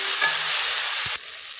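Leafy greens fry in a hot pan, giving a loud, close, continuous sizzle as they are stirred, with a scraping stir near the end before the hiss settles lower.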